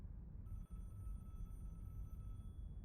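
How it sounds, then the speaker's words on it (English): Phone ringing inside the video game Broken Sword 4: The Angel of Death, heard as a faint, steady electronic tone that sets in early and holds to the end, with no talking. "Wait, phone is ringing."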